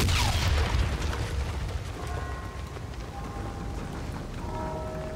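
A grenade explodes in the Call of Duty: Infinite Warfare campaign, a loud booming blast at the start that rolls off into a rumbling, crackling decay with faint tonal game sounds behind it.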